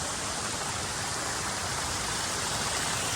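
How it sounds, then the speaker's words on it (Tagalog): A river and waterfall give off a dense, steady broadband rush of flowing water, close and constant for a few seconds with no other sounds. "yan yung ilog dito ito yung falls"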